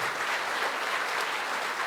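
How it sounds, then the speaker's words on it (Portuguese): A church congregation claps together in thanks, a dense, even wash of applause that holds steady throughout with no talking over it. "E agradecer a Deus com uma salva de palmas, porque Deus fez um milagre essa semana."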